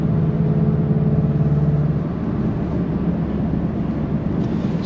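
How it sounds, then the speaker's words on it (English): A VW Golf MK8 GTI's engine and exhaust drone steadily from inside the car while driving, a constant low hum with no distinct revs. "the exhaust is really gonna wake this thing up"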